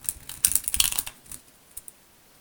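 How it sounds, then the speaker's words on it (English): Tarot cards are shuffled by hand in quick riffling bursts, crisp papery flutters close by that thin out into a few isolated flicks. "One more shuffle here, let's see."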